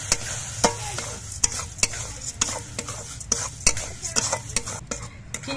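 Sugar and a little water cook in a wok, making a steady low sizzle broken by frequent sharp metallic scrapes and taps of a utensil against the pan.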